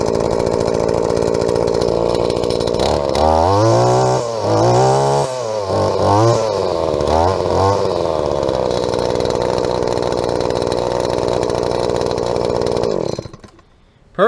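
A Japanese-made Shindaiwa string trimmer with a 21.1 cc Kawasaki two-stroke engine runs loud and close, revving up and down several times before settling into a high, steady buzz, then cutting off abruptly at the end.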